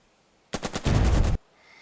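Short burst of machine-gun fire aimed at a tank in the wargame Burden of Command, about a dozen rapid, loud shots in under a second, then quiet.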